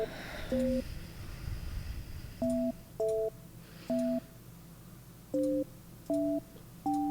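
Touch-tone keypad beeps dial the White House comment line by phone: seven short dual-tone presses at uneven intervals, clear and fairly loud over a low background hum.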